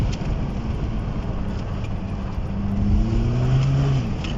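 A tuned BMW 1 Series 120d, stage 2+ with 250 hp, pulls hard through a bend on a road, its engine a steady droning roar heard from inside the car, rising slightly in pitch toward the end.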